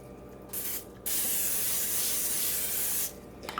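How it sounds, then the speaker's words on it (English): Cooking spray hisses onto a foil-lined cookie sheet in two bursts, a short one and then a long steady spray of about two seconds, close and fairly loud with no talking. "next we are going to spray the cookie sheet down"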